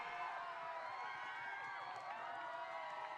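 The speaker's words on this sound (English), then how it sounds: "I didn't know we still had crowd sound." A crowd cheers and roars steadily at an esports grand finals, a dense, continuous wash of voices with no clear breaks.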